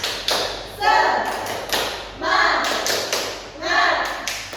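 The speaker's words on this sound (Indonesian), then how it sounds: "kita tepuk semangat terlebih dahulu ya" Schoolchildren doing the 'tepuk semangat' clapping chant in a classroom, with rhythmic groups of claps and taps punctuated by children's chanted voices, loud and close, in repeated bursts.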